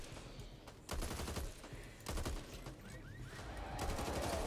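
Video game gunfire crackles in dense, loud bursts of rapid shots layered over a constant background of game sound, with several volleys following one another close together.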